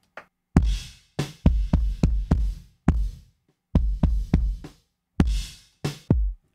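Kick drum blended with a parallel compression track from a DBX 160 compressor, giving a punchier attack, playing a steady pattern of loud hits with brief pauses, alone with no voices.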